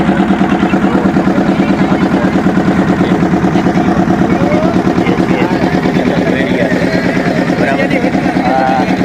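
A motorboat engine chugs steadily and loudly at close range throughout, its rapid even pulse filling the scene on the sea off Ghogha.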